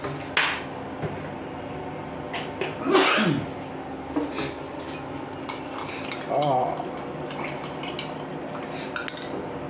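A metal spoon stirs Kerala asthram curry in a pot after coconut oil goes in, making intermittent scraping clinks and knocks against the vessel, with a brief louder clatter early on and quieter stirring afterward.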